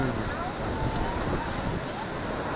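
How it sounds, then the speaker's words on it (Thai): Wind gusting through a pole near wind turbines, a steady, loud broadband rush and roar that holds for the whole stretch without pause. "เสียงลมอ่ะดังมาจาก เสานี่ปะ"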